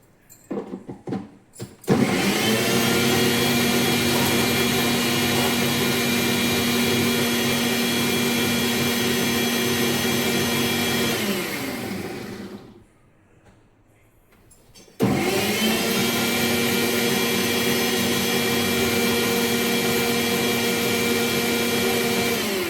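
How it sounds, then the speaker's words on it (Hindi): A kitchen mixer grinder whirs loud and steady while grinding a wet spice paste with chilli and water for besan sev kadhi, cutting off briefly before starting up again for a second run. "थोड़ा सा पीसती हूँ।"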